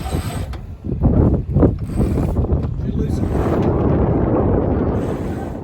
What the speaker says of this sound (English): Raising the mainsail on this boat takes for freaking ever.